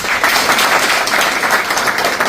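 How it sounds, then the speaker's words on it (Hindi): Loud, dense applause from an audience, steady crowd clapping filling the whole moment with no pauses. "जोरदार ताली।"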